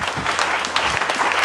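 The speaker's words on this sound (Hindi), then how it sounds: "एक बार दिल की गहराइयों से जबरदस्त तालियां होनी चाहिए" An audience at a business event claps steadily, a dense continuous wash of many hands close by with no pauses.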